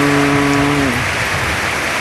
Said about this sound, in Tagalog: yung mga nyug sumasayaw sa lakas ng hangin ng habagat may kasamang ulan yan